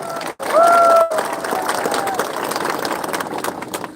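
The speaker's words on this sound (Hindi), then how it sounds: "आप अपने आप को भी थोड़ा सा ताली देकर अपने आप को भी क्रेडिट लीजिए" A rally crowd in Sabroom applauds together, a dense, steady wash of clapping that rises quickly and holds for several seconds, with a brief whistle-like tone near the start.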